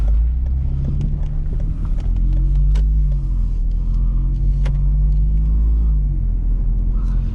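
A 2018 Ford Fusion Sport drives along, its cabin filled with a steady low road rumble and engine drone, with a faint rising engine tone, heard from inside without speech.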